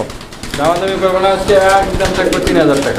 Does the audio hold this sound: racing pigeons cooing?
yes